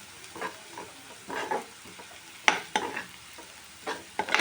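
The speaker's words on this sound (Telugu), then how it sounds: "ఇది ఒక 2 మినిట్స్ వేగాలండి" A pinch of turmeric frying in a pan over medium-high heat for a pasta masala, giving soft sizzling with stirring scrapes that come in short bursts, near and alone.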